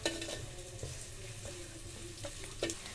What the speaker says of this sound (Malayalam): കൈനെ കൊണ്ടാണ് കേട്ടോ മിക്സ് ചെയ്യേണ്ടത്.